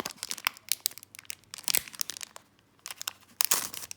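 Foil wrapper of a Pokémon Shining Fates card pack crinkling and crunching as it is torn open, in close, irregular bursts of crackle with brief pauses.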